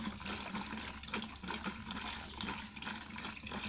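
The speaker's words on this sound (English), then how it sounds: "Empty this water into the bucket." Water poured from a bottle into a bucket, a continuous splashing gurgle of a steady stream hitting water, fairly quiet and close, with no talk over it.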